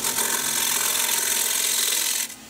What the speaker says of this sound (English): I'll just go in there with the top of the nose of the scraper